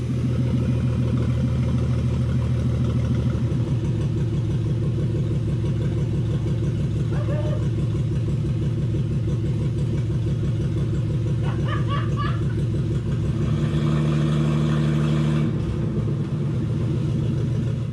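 An old van's engine runs close and steady for a long stretch, a low rumbling idle with a few brief rev rises and small clanks partway through, and no one talking.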